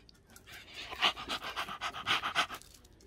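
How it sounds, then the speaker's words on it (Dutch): A dog pants in quick, steady huffs right by the microphone, a run of about a dozen rhythmic breaths that rise and fade within a few seconds against a quiet room. "Niet zo hijgen."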